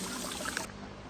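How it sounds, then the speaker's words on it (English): Water pours and trickles steadily from an overflowing bucket on a recirculating highbanker rig for desert mining, a continuous splashing wash that drops to a softer dribble partway through. "bucket's overflowing"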